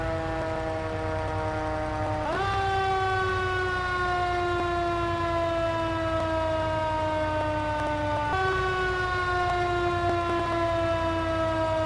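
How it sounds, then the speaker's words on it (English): A steady wailing US fire truck siren from Farming Simulator 22 sounds continuously, with long sliding tones that drop and rise again, loud and close under a constant engine rumble. "Let's get the sirens on."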